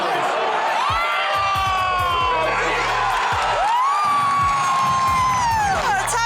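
A stadium crowd at a Patriots football game cheers and whoops loudly, with rising shouts and whistles swelling in two big waves over a continuous roar.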